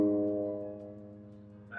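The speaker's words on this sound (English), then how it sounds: "Our next interval is gonna be a tritone." A tritone interval rings out on an instrument, a rich sustained tone that slowly fades over nearly two seconds, with a voice cutting in right at the end.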